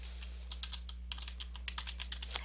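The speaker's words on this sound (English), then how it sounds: "let's just type this up." A computer keyboard is typed on in short rapid bursts of crisp clicks, close and clear, with a brief pause between bursts over a low electrical hum.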